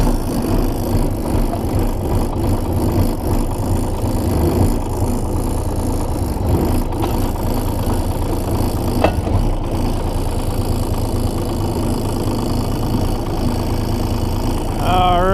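A Kubota K-008 mini excavator engine idles steadily after a cold start, a close, continuous diesel chug with some rattling throughout the clip.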